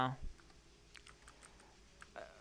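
Light keystrokes on a computer keyboard while a command-line tool is being looked up, sparse quick clicks spread over a couple of seconds, quiet and close over a faint background hiss.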